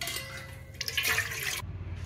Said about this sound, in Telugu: రెండు గ్లాసులు వాటర్ పోసుకోవాలి.